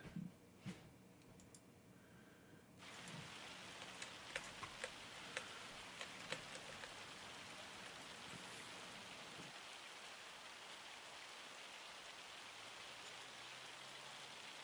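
Steady rain hisses over the fields of a Farming Simulator world, starting soft with a few clicks and swelling after the first few seconds into a continuous, quiet downpour with scattered ticking drops.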